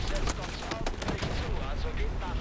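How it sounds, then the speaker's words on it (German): Rapid, bursting gunfire from the video game Battlefield 4, dense overlapping shots and explosions in a short, busy barrage with a voice partly audible underneath. "Hör auf zu schießen"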